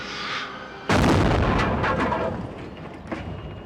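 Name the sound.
movie set bomb explosion with gasoline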